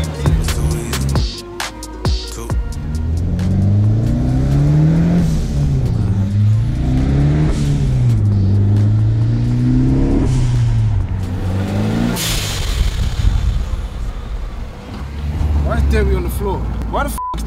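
A Cosworth car engine revs up hard in rising and falling sweeps, loud and close, settling back to a steady idle; voices talk faintly over it.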